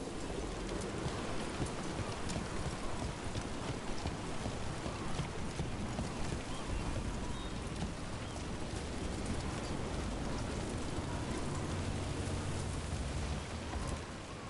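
Steady, heavy rainfall in Dragon Age: The Veilguard hisses without a break, a dense and even wash of falling water that lasts throughout.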